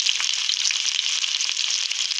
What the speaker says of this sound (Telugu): కట్ చేసి పెట్టుకున్న ఉల్లిపాయ ముక్కలు వేసుకుందాం.